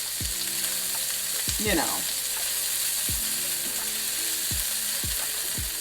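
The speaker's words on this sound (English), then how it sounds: "So next, we want to saute our onions." Onions sauté in a pan with a constant, fairly loud sizzle. Occasional knocks and scrapes come from stirring, and a voice speaks briefly.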